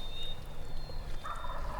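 A wild turkey gobbles from its roost in the woods at opening-day dawn, faint and distant beneath steady low outdoor background noise, a single rattling call near the end.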